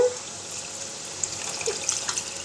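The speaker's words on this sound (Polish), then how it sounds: "I to wszystko szybko zalewam wodą." Water runs from a tap, poured over fresh vegetables for a minestrone soup in a home kitchen, heard as a soft, brief splashing trickle at moderate distance.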